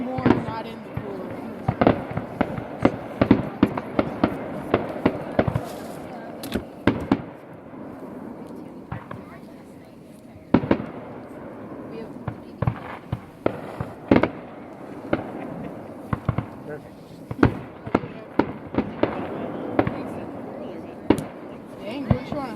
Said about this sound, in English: we're trying to space out some fireworks